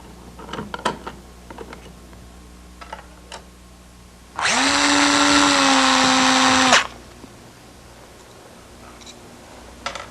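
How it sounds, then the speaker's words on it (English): Power screwdriver backing out screws from a light switch cover plate, one steady high whirring run of about two seconds, close and loud, with faint handling clicks before and after. "First thing we do is back out these screws and take the cover plate off."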